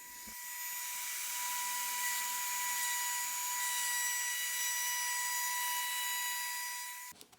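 A handheld trim router shaping a wooden cutting board edge whines steadily at a high pitch for about seven seconds, loud and close, then cuts off abruptly.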